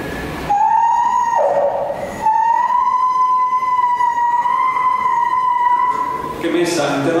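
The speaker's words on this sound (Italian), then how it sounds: "Che messa all'interno della tuba amplifica, viene amplificato il suono e sembra un suono incredibilmente acuto." Dry lips buzz a thin vibration into a tuba, turning it into a steady, piercing high tone, a contemporary technique. The tone holds loud for several seconds with a brief dip in pitch.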